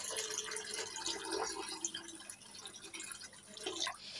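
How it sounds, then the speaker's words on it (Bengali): Water poured onto rinsed rice in a bowl makes a soft, continuous trickling and splashing that stays faint and even throughout, with light dripping textures on top. "জল দিয়ে দিচ্ছি"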